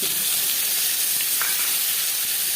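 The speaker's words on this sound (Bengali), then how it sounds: "পেঁয়াজ হালকা করে ভেজে নেবো" Onions sizzle steadily in hot oil for a Katla fish curry, a dense, even frying hiss throughout with a faint stir or two, no voices.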